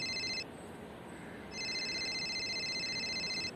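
A phone rings with an electronic trilling tone, one short burst, a brief pause, then a longer ring; fairly close and clear over faint background hiss.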